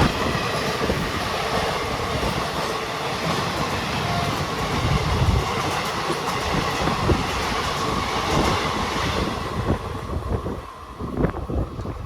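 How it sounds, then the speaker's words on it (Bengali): An intercity express train roars along at about 110 km/h through a junction, heard from a second-class coach, with a dense rushing rumble, rhythmic wheel clatter and wind noise, loud and continuous from start to finish. "বন্ধুরা ট্রেন 110 স্পিডে সাঁইথিয়া জংশন স্কিপ করছে"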